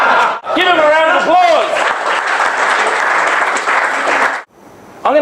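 Applause and cheering break out from an audience at a body language training session, a dense burst of clapping mixed with whoops and shouts that carries for about four seconds before cutting off, followed by a brief restart.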